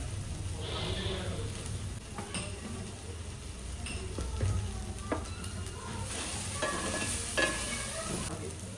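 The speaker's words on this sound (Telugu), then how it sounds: "ఇప్పుడు అల్లం వెల్లిగడ్డ పేస్ట్ వేసుకుందాం" Ginger garlic paste frying in a pan for okra fry: a low steady sizzle with scattered spoon clinks and stirring scrapes against the pan, quiet and close.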